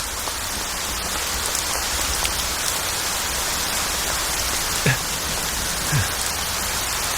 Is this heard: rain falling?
yes